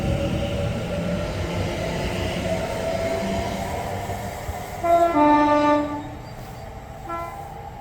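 A DB Cargo UK Class 66 diesel locomotive running light rumbles through Berkhamsted station, a steady rolling drone broken by a loud two-tone horn blast partway through and a shorter toot near the end.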